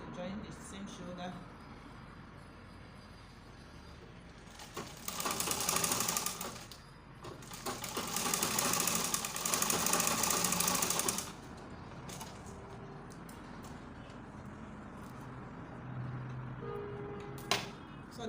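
A sewing machine runs in two bursts of steady rapid stitching while sewing a dart on a gathered turtleneck gown for a baby girl, with someone talking through and between the stitching runs.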